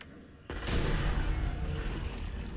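A grenade goes off in the VR game Half-Life: Alyx: a sudden loud blast breaks a quiet stretch, and a dense, rumbling roar with crackling debris carries on to the end.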